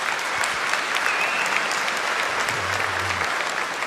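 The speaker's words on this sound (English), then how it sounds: "we're entering the part of the program where there's going to be a lot more applause" Steady audience applause at a 2017 public dialogue between Noam Chomsky and Lawrence Krauss, a dense, even clapping from a large crowd filling the room throughout with no pauses.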